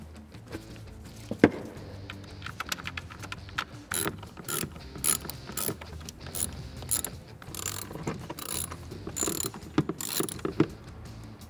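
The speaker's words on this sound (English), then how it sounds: "Now we're gonna replace our four 10 millimeter bolts." Sharp ratchet clicks come in quick bursts as four 10 mm throttle body bolts are run in on a Ford F-150. There are short spaced runs of close metallic ticking and no talk.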